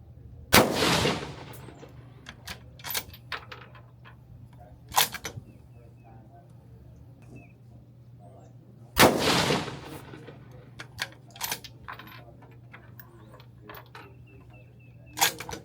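Rifle shots at an outdoor range from .223 reloads with N135 powder: two loud, sharp reports several seconds apart, with fainter clicks and clatter between them and no talking.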